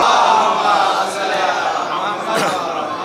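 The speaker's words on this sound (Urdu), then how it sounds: "آپ حضرات سے گزارش ہے قرداس صاحب کے استقبال کے لیے بآواز بلند نعرے صلوات ارشاد فرمائیں۔" A gathered majlis audience at Azakhana e Hashim Agha chants salawat loudly in unison to welcome a reciter, a dense, sustained crowd of voices that fills the space from start to finish.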